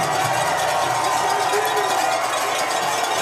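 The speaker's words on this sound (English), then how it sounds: "Crowd is loud as out of the shotgun" A loud crowd at a college football stadium during an NAIA playoff game, a dense continuous roar that holds steady throughout with a commentator's voice running over it.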